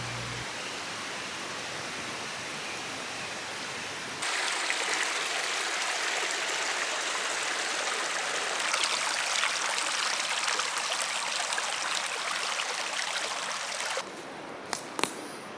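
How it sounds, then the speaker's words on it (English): A Washington creek rushes steadily nearby, a constant broad hiss of flowing water that swells louder partway through. "There are several creeks that converge behind the meadow"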